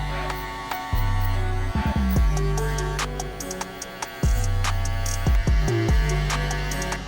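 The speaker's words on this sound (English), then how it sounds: "I'm gonna go touch it up with my Masters Andis clippers" Andis Master hair clippers hum close by during a kid's fade haircut, a steady electric buzz that drops and shifts in pitch as the blades meet hair, cutting in and out several times.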